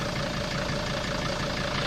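A car's legendary 27 engine idles smoothly and steadily, a continuous close hum with no talk over it.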